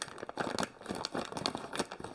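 Plastic packaging bag of frozen Meatco burgers being opened and handled, giving close, repeated crinkling and rustling bursts throughout with no talk.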